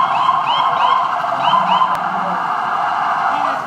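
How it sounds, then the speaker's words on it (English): Wailing ambulance and police car sirens rise and fall repeatedly, steady and fairly loud over a constant background rumble, with no one speaking. "When you hear the ambulance, you hear the siren, you hear the police car, you hear the siren."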